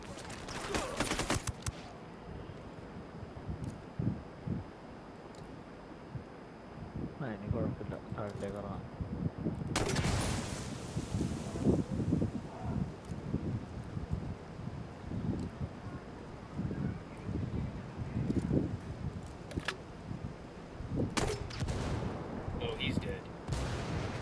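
Mortar and grenade explosions in Ghost Recon Wildlands, repeated heavy blasts and bursts of gunfire amid wind noise, with someone talking excitedly over the combat throughout.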